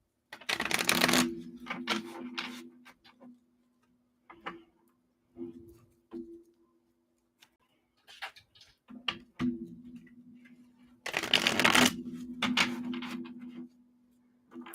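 Tarot cards are shuffled in crisp riffling bursts, with quieter taps and flicks between them and a faint tonal hum in the background.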